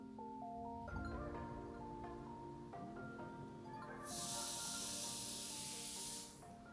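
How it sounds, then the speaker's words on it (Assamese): A ginger, garlic, onion and green chili paste fries in a pan for a sprouts curry. A bright, loud sizzle bursts up midway and lasts a couple of seconds over a soft, melodic tonal background. "এইখিনি ভালকৈ ভাজি ল'ব লাগিব"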